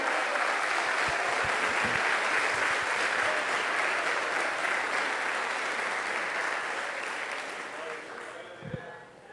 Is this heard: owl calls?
no